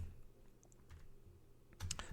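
A few quiet keystrokes on a computer keyboard as a terminal command is typed, sparse at first, then a quick louder burst of clicks near the end.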